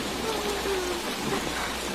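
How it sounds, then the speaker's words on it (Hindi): Heavy torrential rain pours steadily as a dense, continuous hiss, close and unbroken, with faint voices beneath it. "मूसलाधार बारिश हो रही थी"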